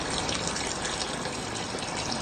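Tap water gushing steadily from a household faucet in Quezon City, a continuous broadband splash and rush that stays loud and even throughout with no voices.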